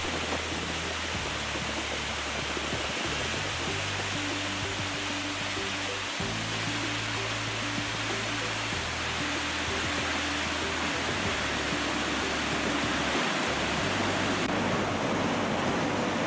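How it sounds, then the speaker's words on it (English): The Lower Falls of the Yellowstone River roars in a dense, unbroken rush of water, steady and loud throughout, with a low underlying hum. "flows over the lower falls"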